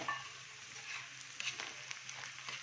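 Ginger and garlic paste sautéing in a pan for a prawn tawa fry, a soft low sizzle with light stirring scrapes and small pops, quiet and close, with no talking.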